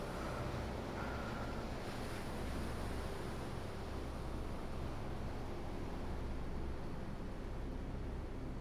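Open ocean surf and wind form a steady, dense wash of wave noise with constant low rumble and breathy hiss, unbroken and fairly faint, with no voices.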